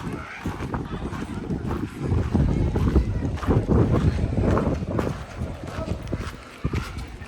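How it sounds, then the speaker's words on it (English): Gusty wind buffets the microphone at Pompeii with a loud, rumbling roar that rises and falls over several seconds, with faint sounds of people around. "It is windy."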